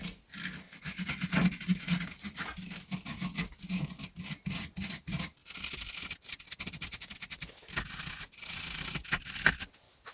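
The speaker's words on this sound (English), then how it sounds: "let's try and clean up as much of this rust as we can with a wire brush" A wire brush scrubs rust off the threads of a Renault Trafic/Vauxhall Vivaro track rod end, making rapid, close rasping strokes in irregular bursts with short breaks.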